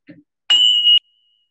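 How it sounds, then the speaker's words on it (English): A single bell is rung to open a Rotary club meeting, giving one clear bright ring that sustains for about half a second and then cuts off, preceded by a brief voice. "That's the official bell to start the meeting."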